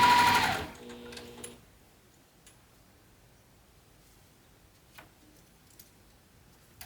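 A sewing machine stitching an apothecary bag runs in a loud, steady burst for about a second and a half, then stops, leaving near-silence with a few faint clicks and rustles.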